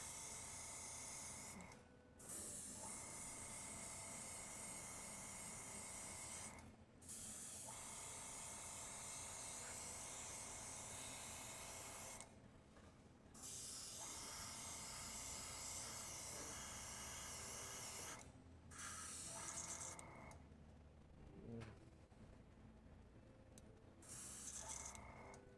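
An airbrush sprays paint onto a 3D-printed Darth Vader can cozy in long continuous hissing bursts separated by brief pauses, with the final stretch sputtering and uneven; close and fairly quiet, no talking.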